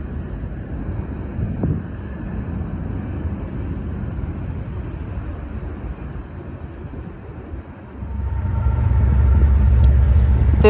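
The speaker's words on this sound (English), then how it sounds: "another CSX train appears" A CSX freight train with Herzog cars rolls past in North East Ohio, a steady rumbling roar with wind buffeting the microphone, growing heavier and louder toward the end.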